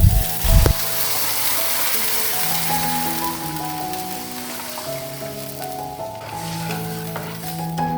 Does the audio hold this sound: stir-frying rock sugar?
yes